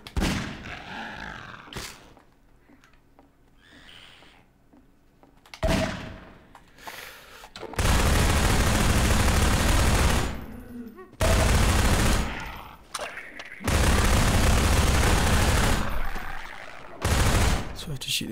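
Gunfire while shooting headcrabs in Half-Life 2: loud bursts of rapid shots in several long volleys separated by short pauses, with grunts and creature noises in the quieter gaps.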